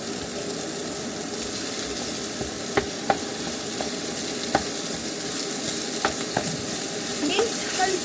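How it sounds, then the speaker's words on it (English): Mince and bacon sizzle steadily in a pan for Cajun dirty rice, a dense, loud frying hiss close by, with occasional faint clicks and scrapes as the meat is stirred. "now we're going to go in with our mince and our bacon"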